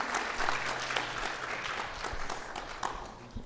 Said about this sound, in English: I would like us to give our panelists a round of applause.